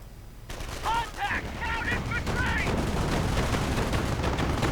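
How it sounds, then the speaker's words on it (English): MP40 submachine guns and other weapons exchange crossfire in a WWII strategy video game, dense rattling bursts rolling continuously at mid distance, with brief chirping effects early on. "ends up in a rather horrifying crossfire from MP40s and a lot of other stuff"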